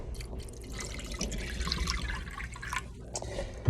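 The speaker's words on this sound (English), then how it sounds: "And then I'm going to pour the distilled water into" Distilled water pours into a container of gummy bears, a close, soft, continuous splashing and gurgling of liquid that lasts a few seconds and ends with a small knock.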